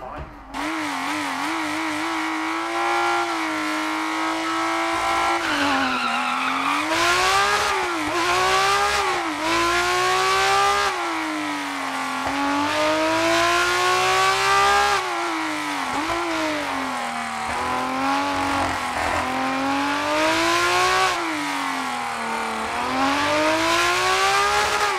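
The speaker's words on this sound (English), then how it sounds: "I'm gonna put original audio on top so you can clearly hear the engine noise" A BMW M1 Procar racing on a Spanish rally stage in Dirt Rally 2.0, its engine droning and rising through repeated revving climbs and gear shifts, loud and close throughout with tire noise underneath and no talk.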